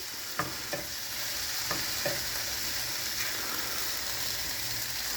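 Chicken and cabbage stir fry sizzles steadily in a hot pan, a constant close frying hiss with a few sharp clinks of stirring near the start.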